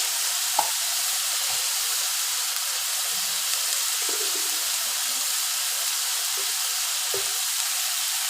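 Ground spices frying in a pan with a little added water for a curd-based katla fish kalia: a steady, soft sizzling hiss runs throughout, with a few faint clinks and scrapes underneath.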